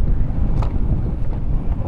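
Strong outdoor wind buffets the microphone in Surigao, producing a steady, loud low rumble with gusty surges; dust clouds, trees and grass are nearby.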